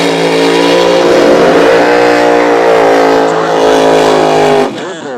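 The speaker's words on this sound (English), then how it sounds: "we'll watch this car come around the corner" A drag race car with a 354 Chrysler Hemi comes around a corner at a track, its engine a loud, sustained, richly harmonic roar that holds steady, then cuts off abruptly near the end.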